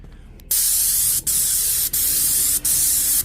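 A loud, steady spray hiss from a VEVOR 750W airless paint sprayer in long bursts, cutting off briefly three times between passes, with a quiet lead-in before it starts.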